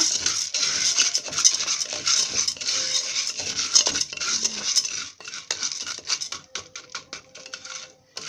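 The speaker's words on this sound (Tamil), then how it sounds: "இப்போ நம்ம இந்த சோளத்தை போட்டுடலாம் போட்டு இதோட நல்லா இப்படி கிளறி விட்டுருங்க" Corn kernels for popcorn stirred with a metal spoon inside a pressure cooker on a stove at low heat, giving a steady dense rattle and scrape of hard kernels against metal, close and fairly loud, thinning into sparse clinks near the end.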